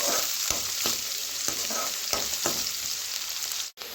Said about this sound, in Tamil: இப்போ இது நல்லா கலந்து விட்டு வதக்கி விட்டுக்கலாம்